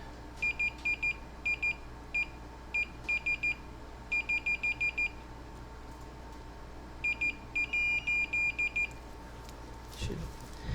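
Faint, thin electronic beeps from a meter probing motherboard battery leads, coming in short rapid bursts over a low background hum.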